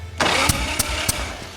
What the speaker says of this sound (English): You put your thumb over the top of the cylinder and turn the engine over.